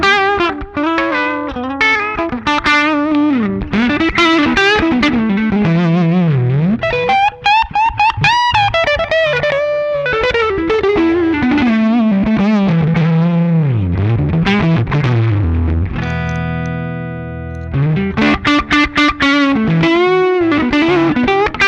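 An electric guitar is played through a low-gain Yamaha THR10C amp, with ringing melodic lines, bends and sustained chords, loud and close, colored by chorus-like modulation and mild grit, with no talking.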